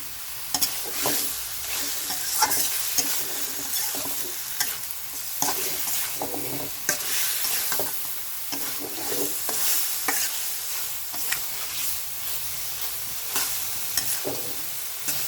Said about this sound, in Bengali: এভাবে তেলের উপর কিছুক্ষণ কষে নেব যেহেতু আমরা ভাজি নেই মাছটা